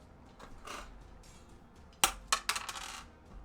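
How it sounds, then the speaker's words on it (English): Dice clatter onto a hard surface for tabletop roleplay play, a sharp first impact followed by several quick rattling bounces, close and crisp against a quiet background. "I was rolling dice to see if maybe he would get attacked anyway."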